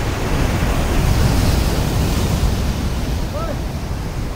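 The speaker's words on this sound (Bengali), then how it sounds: "ঢেউ দেখো" Sea waves in Kerala break steadily on the shore, a loud continuous roar of surf with a windy rush across the whole stretch, and a faint brief call rises near the end.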